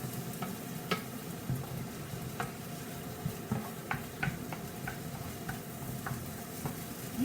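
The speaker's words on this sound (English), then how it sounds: "I'm going to add a tablespoon of the minced garlic." Minced garlic and diced onion cooking in a pan for lasagna, a quiet steady sizzle with scattered light ticks and taps of a utensil stirring against the pan.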